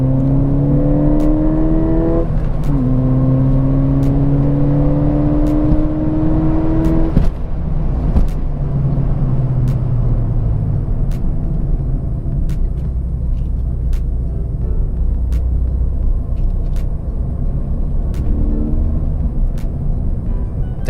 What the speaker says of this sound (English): Just breaking the brake pads in.